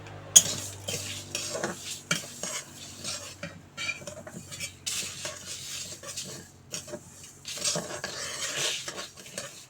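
Moong dal being dry-fried with a bay leaf in a pan, with repeated scraping and stirring of a utensil against the metal and a faint sizzle beneath, close and fairly quiet.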